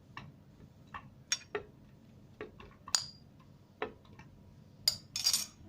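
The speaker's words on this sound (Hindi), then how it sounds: "सबसे पहले हम ये डालेंगे इसमें स्ट्रॉबेरी जग में" Fresh strawberries drop into a blender jug, making a few soft, irregular knocks and light clinks up close in an otherwise quiet kitchen.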